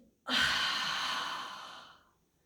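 A single deep, breathy exhalation, loud and close, rising sharply and trailing off over about two seconds, like a long sigh during a guided relaxation exercise.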